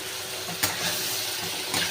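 Fish roe frying in a pan with turmeric and a little water, a steady close sizzle broken by a couple of scraping stirs of a spoon, with no talk.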